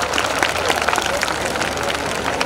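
An audience claps at a school annual function, giving dense, continuous applause at moderate loudness with a busy, crowded texture throughout.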